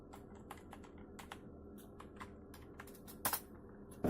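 Someone types the command ipconfig on a computer keyboard, giving a run of light, irregular key clicks with a louder clack near the end, no talking, in a quiet room.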